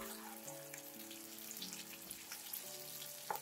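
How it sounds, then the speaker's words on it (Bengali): Green chilies fry together with hilsa fish in a pan, giving a soft, low-level sizzle under steady tonal hum, with one brief sharper crackle near the end. "মরিচ গুলো দেখতে কেমন ভাজা ভাজা হচ্ছে,"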